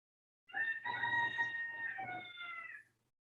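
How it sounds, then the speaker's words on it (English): Rooster crowing in the background of an online conference call, a single long cock-a-doodle-doo lasting a couple of seconds, somewhat distant and fairly quiet, with no talking over it. "We have roosters in the background."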